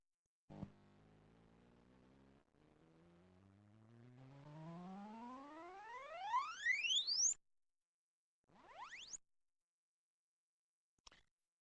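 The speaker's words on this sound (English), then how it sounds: "I have connected also a loudspeaker to my amplifier, so you will be able to listen to the sound of these two sweeps" Step-sweep and glide-sweep test tones played through a loudspeaker connected to an amplifier: a stepped sequence of held tones, then a smooth rising glide up to a high pitch, then two quick rising sweeps and a final brief blip.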